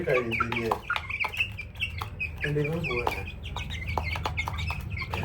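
Hens and a rooster cluck and chatter nearby in a poultry yard, with a dense, continuous stream of short clucks and squawks overlapping one another.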